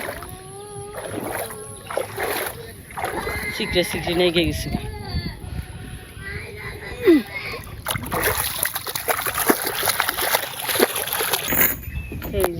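A wooden boat moves through water, sending up repeated splashes and sloshing strokes close by while people talk over much of it.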